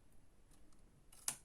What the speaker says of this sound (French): Je vais venir prendre ma paire de ciseaux.